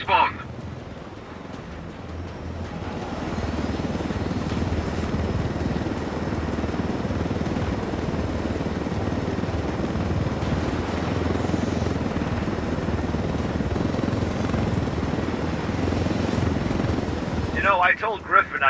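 A helicopter flies in the Ghost Recon Wildlands video game, its low rotor and engine drone running steadily and loud throughout, with voices talking over it.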